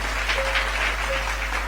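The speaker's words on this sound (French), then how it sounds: "Acclamons pour le Seigneur Jésus." Short burst of congregational applause at a French-language church service, steady dense clapping throughout with a low constant hum underneath.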